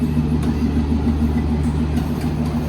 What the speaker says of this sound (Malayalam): സബർമതിനെ നെയ്ദില്ലിക്ക് പോകുന്ന രാജധാനിയുടെ റേക്കാണ് ഈ ഷണ്ട് ചെയ്തുകൊണ്ട് വന്നിരിക്കുന്നത് കേട്ടോ